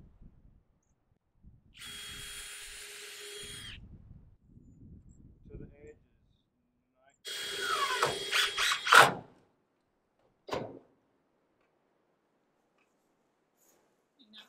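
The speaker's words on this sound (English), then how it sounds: "We're having to pre-drill these 1x4s a little bit." Power drill boring pilot holes into 1x4 wooden boards for framing a 40x15 livestock shelter, heard as two short whining bursts of drilling, the second rising and stuttering, with a brief knock afterward and quiet gaps between.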